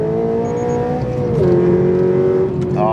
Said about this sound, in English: As you will hear, this one has an unspeakably loud exhaust on